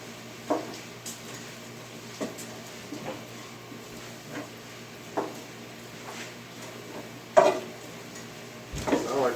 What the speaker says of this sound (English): Stop sizzling.